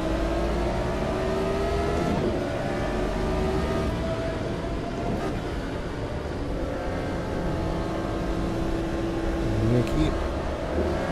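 A Formula 1 car in the Automobilista simulator at Interlagos, its engine held at high revs and bouncing off the limiter in one gear, a steady loud whine while someone talks over it.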